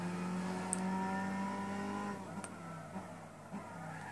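Lexus SC450 GT500 race car in Gran Turismo 6 at the Nürburgring, its engine whining steadily at high revs, then the pitch drops and fades as it slows, with a couple of sharp clicks.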